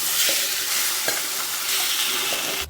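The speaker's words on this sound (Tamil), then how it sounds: "இந்த கடையில் நான் பாசிப்பருப்பு வந்து வேக வச்சு வச்சுருக்கேன் அதை போட்டுருவோம்" Cooked moong dal tips into a hot pan for payasam, giving a steady soft sizzle with a few light scraping stirs, close and alone.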